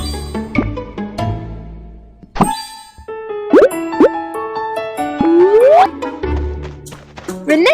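Cartoon plops, boings and bright dings as potted plants are set on a shelf, a quick run of bouncy, springy effects over light music, close and clear with no talking.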